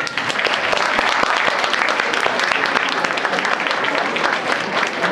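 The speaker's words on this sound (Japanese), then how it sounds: "もう一度大きな温かい拍手をお願いします。" A crowd at a boxing match claps steadily and loudly after a win, a dense wash of applause that continues without pause.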